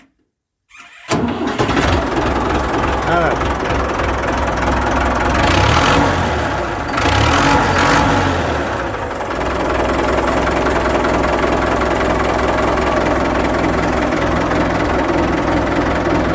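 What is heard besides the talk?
Ford 6600 tractor engine starting and idling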